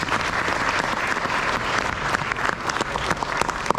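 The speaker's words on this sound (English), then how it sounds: "A big applause for those people also." An audience at an NCC air squadron's 75th anniversary celebration in Mumbai claps steadily, a dense, even round of applause filling the hall with scattered sharper claps.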